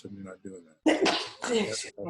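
A single sharp sneeze bursts out amid a classroom discussion, loud and close, with people talking just before and right after it.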